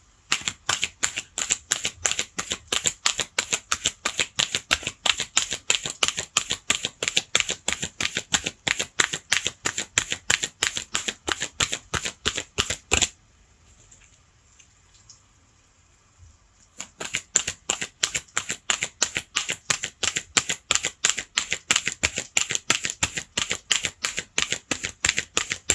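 Oracle cards being shuffled in a long run of rapid, crisp riffling snaps, close and fairly loud, broken by a few seconds of near silence before the shuffling resumes at the same brisk rhythm.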